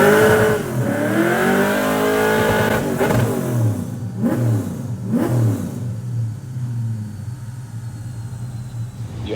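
A drift car fitted with a brand-new LS3 V8, strapped to a dyno, revs hard and loud, climbing through a rising pull with sharp gear-change dips before settling into a steady high drone, with no talking.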